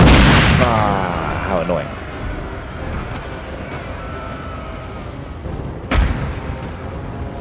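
Cannon firing canister shot in Napoleon: Total War with the Austrian army: a loud blast at the start rolling into a long rumble of distant battle, then a second sharp boom near the end, with a brief spoken remark.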